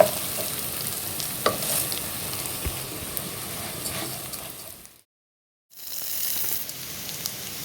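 Lentils and vermicelli fry in a pot with a steady close sizzle and occasional stirring scrapes, then a brief silence before the sizzling resumes.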